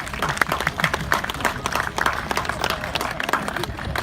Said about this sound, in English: can we have a big round of applause for Lenny, the Lincoln Longwall?